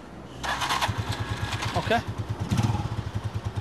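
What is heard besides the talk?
motorcycle engine stalling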